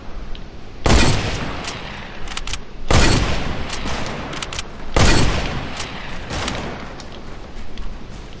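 Sniper gunfire in a battle royale video game, three loud heavy shots spaced about two seconds apart, each trailing off into a rumbling echo.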